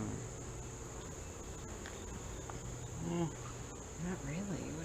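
Honey bees buzzing around an open hive during an inspection, a faint, steady insect drone with a constant high whine, and a few soft nearby buzzes rising and falling toward the end.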